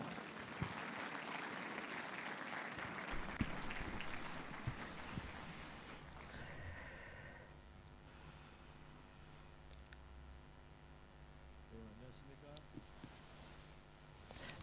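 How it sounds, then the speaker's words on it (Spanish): An audience at an evangelistic campaign meeting applauds to welcome a pastor, a dense wash of clapping that is strongest at first and then thins out, with scattered claps continuing under a quieter background. "Vamos a recibirle con fuertes aplausos al pastor Jong-Gun Park"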